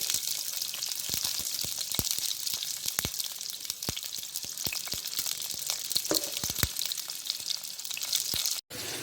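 Shallots, green chili and ginger frying in hot oil, a dense continuous sizzle with sharp crackles and pops, close and moderately loud, briefly cut near the end.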